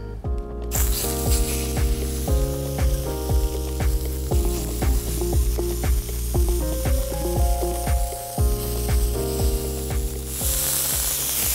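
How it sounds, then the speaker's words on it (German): Pepper-and-salt-seasoned beef fillet sears in hot oil in a pan, giving a loud, continuous sizzle with crackling spits and steady frying hiss throughout. "und brate darin mein Fleisch kurz an."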